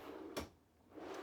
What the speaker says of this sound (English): Storage right back behind here that goes very far back with this pull-out drawer